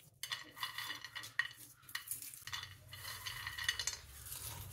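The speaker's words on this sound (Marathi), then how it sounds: "दोन्ही हातावर घेऊन असं चोळून घेतले की पटकन साल निघते" Roasted peanuts rubbed between the hands to loosen their skins: dry rustling and crackling in uneven strokes, close and fairly quiet, with no talking.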